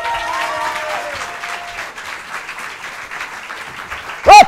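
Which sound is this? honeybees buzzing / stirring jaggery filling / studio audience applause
studio audience applause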